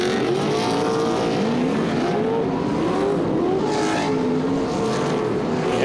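Off-road racing trucks at speed during the Crandon Brush Run, engines roaring loud and continuous with rising and falling revs as several trucks charge through the course.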